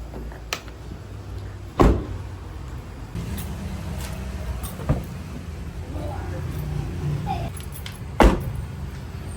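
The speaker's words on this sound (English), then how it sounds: "it causes really the bad sound when you close the doors" Several solid thuds of a Toyota Veloz car door shutting, spaced seconds apart, with softer clicks and handling noise in between and a low hum underneath.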